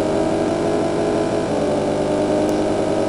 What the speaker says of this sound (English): That dreadful car noise.